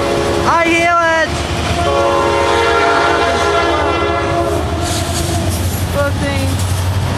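A Norfolk Southern northbound freight train passes at close range, its air horn sounding in loud sustained blasts over the steady roar and rumble of the rail cars.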